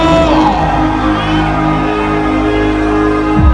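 A concert crowd at Diabolika night at King's Jesolo roars in one loud, sustained scream and whoop that fills the whole stretch, swelling slightly at the very end.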